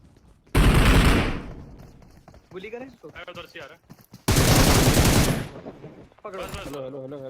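Two loud bursts of rapid automatic gunfire in a video game, each lasting about a second, with someone talking between and after them.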